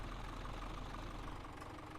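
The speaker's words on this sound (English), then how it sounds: "Just restart the engine." Video-game vehicle engine idles after a restart, a steady low rumbling drone, quiet and even with no talk over it.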